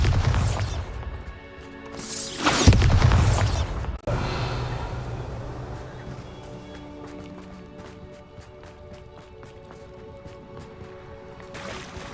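Bombarda spell blasts in the Hogwarts Legacy video game during a Percival Rackham trial: a loud whooshing burst with a booming low rumble, a sharp crack, then a long fading rumble, with another burst at the end.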